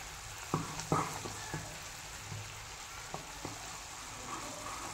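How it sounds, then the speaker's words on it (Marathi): Sugar syrup for balushahi bubbles in a pan, a faint low simmering hiss broken by a few soft clicks and knocks, with no voices. "पहा इथे उकळे आले आहे"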